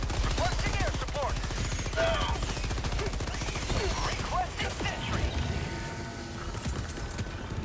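Rapid sustained Gatling gun fire in the video game Helldivers 2, a dense rattling stream of shots mixed with explosions and battle noise against a horde of enemies.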